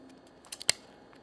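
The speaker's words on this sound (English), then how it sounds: "After that, we've got the pair of scissors" Small scissors on a Wenger Evo S52 pocket knife snipping, giving three quick, crisp close-up clicks in a quiet setting, the last one sharpest.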